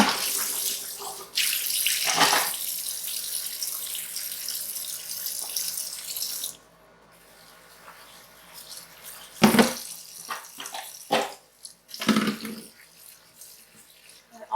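Tap water runs steadily over parboiled pork bones in a kitchen sink for about six seconds, then gives way to intermittent splashes and clatters as the bones are rinsed.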